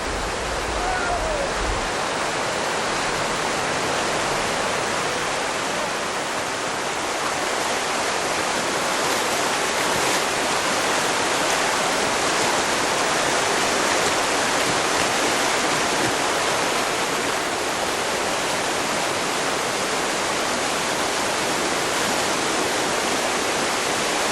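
Kayakers and canoeists race on Colorado's Crystal River, a steady broadband rush of fast-flowing river water filling the whole stretch, loud and constant without pause or voices.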